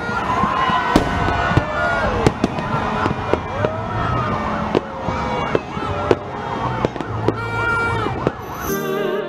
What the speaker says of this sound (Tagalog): ang highlight ng gabi, ang engrandeng fireworks display pagpatak ng alas 12 ng hating gabi